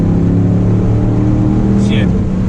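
Car engine droning loud and close under acceleration before a paddle-shift upshift, a steady low rumble with a brief high squeal near the end and a voice talking over it.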